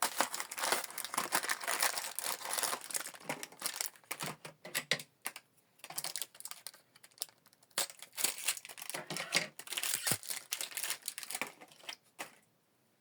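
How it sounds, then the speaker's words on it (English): Plastic wrap crinkling and tearing as it is peeled off a new HP ink cartridge for an HP Envy 6032e printer, close up in irregular crackling bursts with short pauses between. "Remove this plastic."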